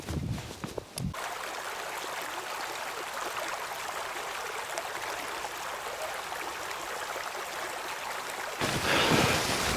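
Creek water flows steadily on a snowy winter morning, a continuous rushing babble up close, with a brief rustle at the start and the flow swelling louder near the end.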